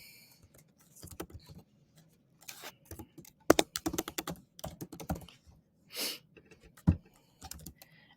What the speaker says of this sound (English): So you're going to want to type in your email address.